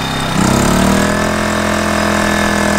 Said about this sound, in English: You'll hear the generator race up to be able to feed the 750 watts exactly to it.